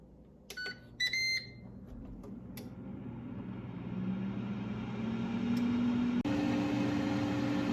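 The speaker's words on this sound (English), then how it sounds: "We choose air fry for our mode, and then we hit the play button." Ninja AF101 air fryer set to air fry mode: a few quick button beeps, then the fan spins up into a steady rising whir that grows louder and holds a constant hum.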